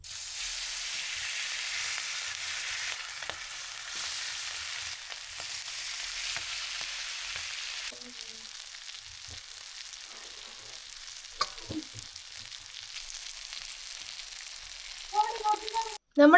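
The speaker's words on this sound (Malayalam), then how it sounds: "നമ്മുടെ ചിക്കൻ അങ്ങനെ ഫ്രൈ ആയിട്ടുണ്ട്." Marinated chicken fries in a pan, a steady close sizzle and crackle with a few scrapes and clinks of stirring, fading a little partway through.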